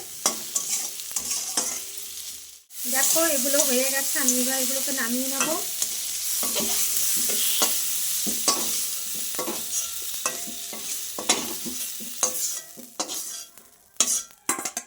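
Food frying in an oil-filled kadai (wok-style pan) after salt is added, with a steady sizzle and stirring scrapes throughout and someone talking over the first half.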